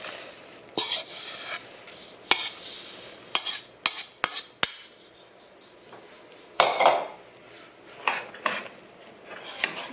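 A spoon clatters and scrapes inside a pot as oatmeal and vanilla are stirred into a chocolate no-bake cookie mixture, with sharp irregular clinks and a faint sizzle from the hot pan, close and without talk.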